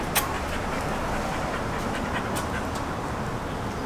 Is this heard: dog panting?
yes